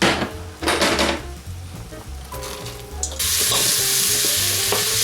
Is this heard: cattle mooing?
no